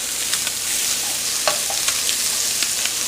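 Salmon pieces sizzling in a hot pan, with a steady broadband hiss of frying and a few brief scraping clicks as the fish is stirred and moved, close and fairly loud with no talk.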